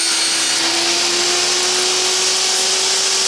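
A power sander works over a wooden plastic bag dispenser in a steady, loud, unbroken whir with a constant high tone, cutting off abruptly at the very end.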